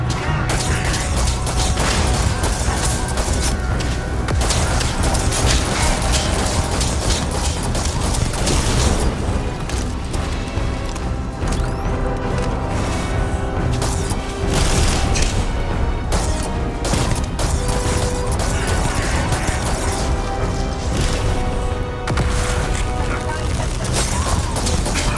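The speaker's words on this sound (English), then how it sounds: "Now you'll see just how badly I shoot." Continuous loud gunfire and explosions from a video game battle, dense bursts of shots and booms layered over music for the whole stretch, with no pauses.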